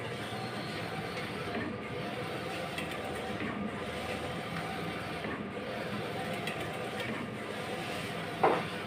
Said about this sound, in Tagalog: Laki ng printing machine.